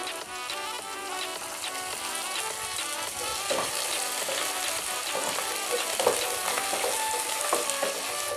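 Cut green chili frying in hot oil for gobi Manchurian, a continuous close crackling sizzle with dense popping spatters and occasional stirring clatter, steady and fairly loud with no voices.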